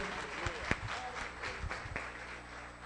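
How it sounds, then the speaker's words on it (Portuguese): A church congregation applauding during a parents' course, a soft, diffuse spread of clapping with a few sharper claps near the front, fairly quiet and a little distant, with some background voices mixed in. "Podemos aplaudir esse Senhor maravilhoso?"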